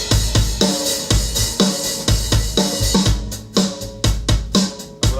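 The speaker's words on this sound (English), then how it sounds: "This is again the straightforward sound of the kit" An unprocessed rock drum kit plays a steady, driving groove up close and loud, with punchy kick, snare hits and bright cymbal wash repeating in a tight rhythm, no voices.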